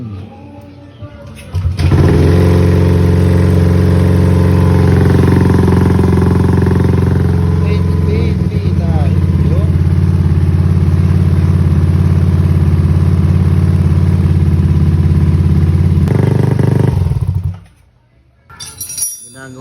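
A Yamaha Aerox scooter engine runs steadily after a throttle body cleaning and manual idle control swap, a loud, close, even drone that holds for about fifteen seconds before cutting off abruptly, with brief voices around it.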